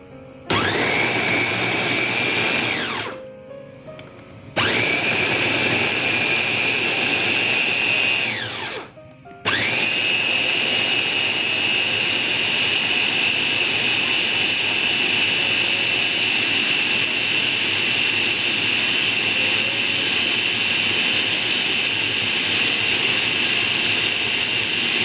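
An electric blender or chopper grinds spices with water for Batak-style arsik carp, a loud continuous whirring roar broken by two brief pauses before running steadily on, with no talking over it.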